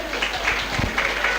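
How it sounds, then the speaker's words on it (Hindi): Audience applause at a Brahma Kumaris Mother's Day gathering in Delhi, welcoming back a dance performer: a steady patter of many hands clapping in a hall, moderately loud and continuous. "हम सभी तालियों से पुनः कुमार सूरज का स्वागत करते हैं"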